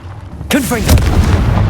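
Confringo blasting spell in Hogwarts Legacy going off inside a cave: a sudden loud boom with whooshing, swooping magical tones, followed by a rolling, rumbling tail.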